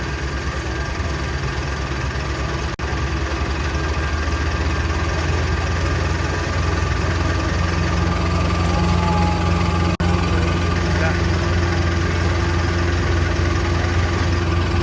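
A steady, rumbling tractor engine idles continuously at close range, with a low throb and no change in pace throughout.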